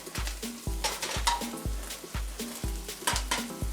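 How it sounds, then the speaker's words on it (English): Onions fry in hot oil in a pan, a close, constant sizzle broken by regular rhythmic clanks of stirring against the pan about twice a second. "You don't want your onions to boil, you want them to fry."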